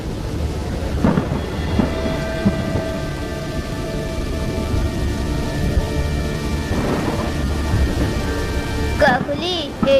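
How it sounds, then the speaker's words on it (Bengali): A loud thunderstorm with heavy rain in a Bengali comedy cartoon: a constant downpour hiss with deep rumbling thunder, layered under sustained musical tones and a brief voice near the end. "আজকে তো অনেক জোরে ঝড় বৃষ্টি হচ্ছে"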